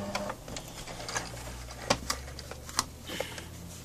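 A sewing machine back stitches fabric with quiet, uneven mechanical ticks and clacks, a few sharper clicks standing out in a short close-up run.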